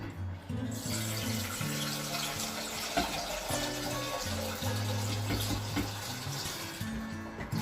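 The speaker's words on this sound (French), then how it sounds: "je prépare de l'eau pour le riz." Tap water runs steadily into a pot to cook rice in a small kitchen, a continuous close hiss and splash, while music with steady tones plays underneath.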